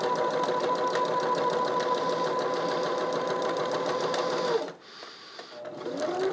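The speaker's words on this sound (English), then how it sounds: "when you're sewing spandex, I just went forward and backward to give it a little bar tack" A sewing machine stitches spandex fabric, running forward and backward to form a bar tack: a loud, close, fast rhythmic whirring with a steady needle pulse that halts abruptly near the end before briefly starting up again.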